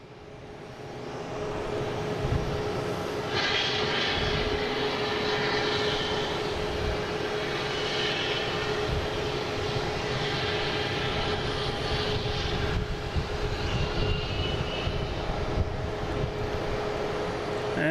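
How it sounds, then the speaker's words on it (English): A JetBlue Airbus A321 arriving at Boston Logan airport gives a steady, broad jet engine roar that holds for the whole stretch, heard from a moderate distance outdoors without talk. "Next coming in is JetBlue from LAX, an A321, flight 988."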